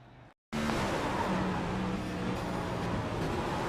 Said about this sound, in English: you can hear the tires squealing